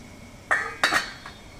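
A metal lid goes onto a cooking pot of simmering pork hock for pata paksiw, with two bright clinks close together and a faint rattle after, against quiet kitchen background.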